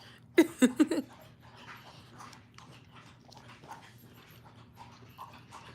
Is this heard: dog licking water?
yes